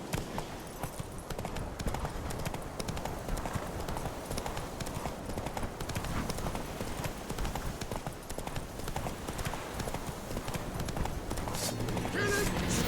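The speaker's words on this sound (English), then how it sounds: "Run, Roach." Roach, a horse in The Witcher 3: Wild Hunt, gallops with rapid continuous hoofbeats that run steadily throughout, mixed with in-game voices talking and ambient game sound.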